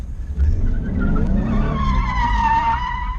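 A car drifting on a track during a driving lesson lets out a loud, sustained tire squeal as it slides, over a steady engine roar.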